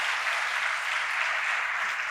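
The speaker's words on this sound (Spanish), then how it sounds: "me le dan un aplauso para que me la reconozcan" An audience applauds the speaker's wife Yolanda, a tennis champion, as she is introduced at a talk: dense, steady clapping that holds at an even level for about two seconds with no voices.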